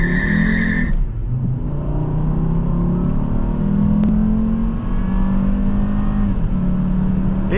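A 2005 Volvo XC70 2.5T AWD accelerates hard from 0 to 60 mph, its engine roaring steadily and climbing in pitch through the gears, with brief tire squeal near the start.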